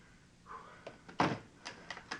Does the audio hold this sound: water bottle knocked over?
yes